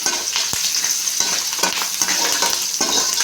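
Vegetable rice with turmeric is stirred in a hot pan, with a continuous close sizzle and repeated scraping strokes of a spoon against the metal, and no voices.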